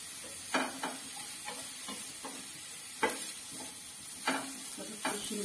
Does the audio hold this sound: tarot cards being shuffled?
no